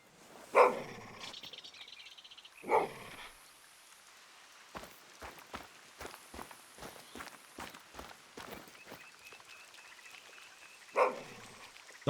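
A dog barking in theHunter: Call of the Wild, three loud separate barks spaced apart, with a run of quick footstep-like taps on the ground between them and no voices.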